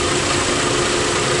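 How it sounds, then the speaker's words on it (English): Car engine idling very roughly, a loud continuous drone with slight uneven pulsing, close and steady, with no talk. "And the engine is running very"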